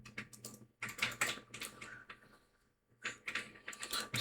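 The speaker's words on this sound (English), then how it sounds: "So go here, type Battlefield 2042 down." Clacking keystrokes on a computer keyboard, typed in quick bursts with a brief pause partway through, close and fairly quiet with no voices.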